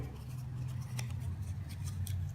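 Aluminum mesh being folded by hand, giving a few faint crinkly scrapes and ticks over a low steady hum, close and quiet.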